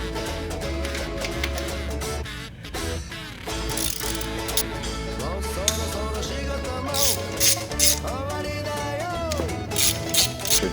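Ratchet wrench clicks quickly and repeatedly up close while loosening catalytic converter bolts on a Mitsubishi Lancer, with intermittent metallic turning and creaks.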